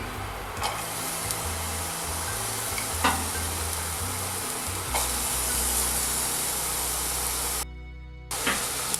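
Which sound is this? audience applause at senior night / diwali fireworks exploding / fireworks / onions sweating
onions sweating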